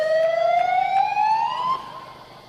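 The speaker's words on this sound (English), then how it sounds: "there's a siren in the background" A siren wails at a junior touch football match, one rising tone with bright harmonics sounding loudly for under two seconds, then cutting off to quieter outdoor background.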